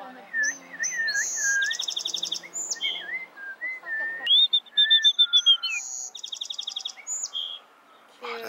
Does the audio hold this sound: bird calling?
yes